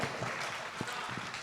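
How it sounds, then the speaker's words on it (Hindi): A brief burst of crowd applause at a Hindi poetry gathering (kavi sammelan) during the Khadkhadi festival in Hapur, dense and steady, with a few sharper claps standing out. "एक बार जोरदार तालियां हो जाएं भाई साहब"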